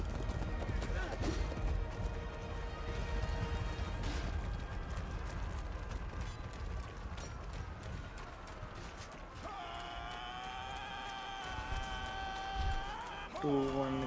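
Horse hooves clip-clopping at a gallop in the medieval combat game Chivalry 2, a steady busy stream of hoofbeats with neighing mixed into loud battle noise.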